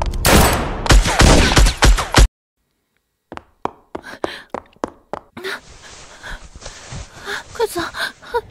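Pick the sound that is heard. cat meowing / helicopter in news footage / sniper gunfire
sniper gunfire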